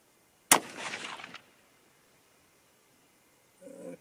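A single sharp .308 Winchester rifle shot cracks loudly, its blast and echo trailing off over about a second, followed by quiet, with a faint rustling movement near the end.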